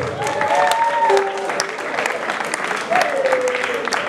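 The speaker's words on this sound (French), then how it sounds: "Est-ce qu'on peut bien applaudir pour Maman Flore?" Applause at an orphanage gathering for Maman Flore, clapping from the group running under sung or tonal voices that rise and fall across the stretch.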